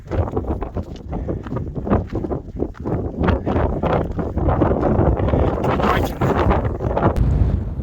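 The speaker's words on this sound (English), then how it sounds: "It's quite windy here on the top when you get on the top of the mountain." Strong wind buffets the microphone on the windy summit of a volcano mountain, a loud continuous roar with gusty surges and no talking.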